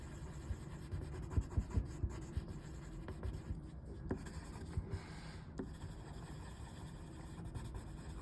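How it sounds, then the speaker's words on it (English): Marker or crayon coloring in paper hearts with bright pink and red, a soft steady scratchy rubbing on paper with small tapping strokes, close and quiet, no talking. "So I'll color in 2 hearts with a bright pink. And the other 2 bright red."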